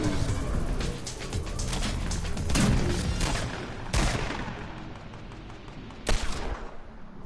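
Rapid bursts of gunfire in a Fortnite duos match, with dense overlapping shots and a few louder sharp cracks standing out over continuous firing.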